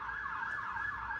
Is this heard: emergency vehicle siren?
yes